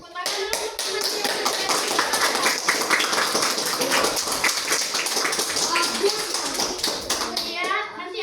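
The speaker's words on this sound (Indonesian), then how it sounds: "tepuk tangan dulu untuk teman-teman" Classmates in an Islamic religious-studies class clap for their peers, a dense, steady patter of many hands that runs unbroken throughout, with children's voices mixed in.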